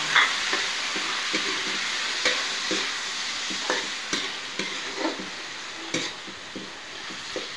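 Chicken breast sautes for chop suey, sizzling steadily in a pan with repeated scraping stirs and light clinks of a utensil against the pan, close and fairly loud.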